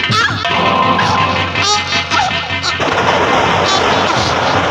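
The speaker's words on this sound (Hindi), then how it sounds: "इस पापी ने मुझे भी गोलियों का निशाना बना दिया।" Stage gunshots ring out in a rural nautanki folk theatre performance, loud and reverberant bursts over a busy, noisy backdrop with raised voices and crowd sound throughout.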